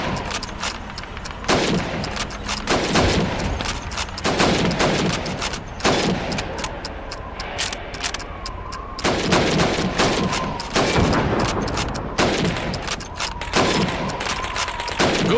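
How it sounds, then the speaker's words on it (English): Rapid rifle shots ring out in a Call of Duty 2 training exercise as helmet targets are fired on under a time limit, loud sharp cracks in irregular bursts over constant background game ambience. "You have 15 seconds to shoot the helmets."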